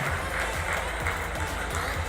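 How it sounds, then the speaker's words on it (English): Audience applause fills a ballroom at a professional showdance competition, a brief dense wash of clapping mixed with crowd noise. "Nice round of applause for Diego."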